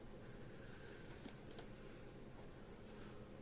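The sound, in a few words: typing on computer keyboard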